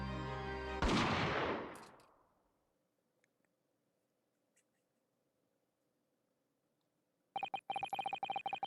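A single sharp gunshot from a pistol fired from the shadows, loud and close, with its echo fading out over a couple of seconds into near silence before a burst of unrelated sound at the end.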